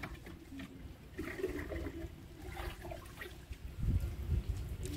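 Water pours and gurgles steadily into a storage tank at a new house, close and continuous, with deeper sloshing surges toward the end.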